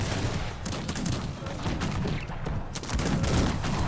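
Multi-barrel cannons firing in the real-time strategy game Cossacks 3 during a tournament battle, a dense rattling fusillade of rapid overlapping shots and booms, continuous and moderately loud, with no talk.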